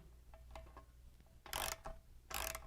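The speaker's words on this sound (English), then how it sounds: "A second way to tighten the wrap clamp would be to come in from the other side with a socket and extension" A socket wrench with an extension tightening a wrap clamp on a fat-wheel bicycle, giving a few soft ticks followed by two loud bursts of ratcheting clicks, close and alone.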